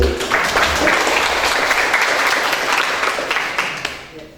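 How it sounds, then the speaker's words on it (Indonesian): An audience applauds a student named Siti at an Islamic school session, a dense, steady wash of clapping from many hands that fades out toward the end. "Tolong beri aplaus kepada Siti."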